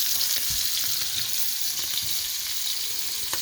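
Scallops sear in a hot pan of garlic brandy butter, a steady bright sizzle with small popping bursts throughout.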